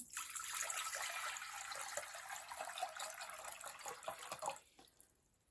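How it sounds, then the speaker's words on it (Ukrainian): Water pours steadily into a ladle, a soft, continuous splashing trickle close by that fades away near the end. "Для заливки я беру окремий черпачок, наливаю у нього 1 літр води."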